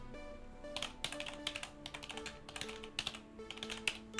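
Rapid, uneven keystrokes clatter on a computer keyboard while someone types during a Lingo word-puzzle game, with clustered taps over a steady background drone.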